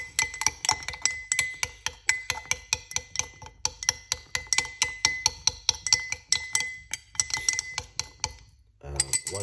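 A spoon clinks rapidly and rhythmically against a glass as lime juice with cayenne pepper is stirred, bright ringing taps repeating steadily before a brief pause and a final clatter.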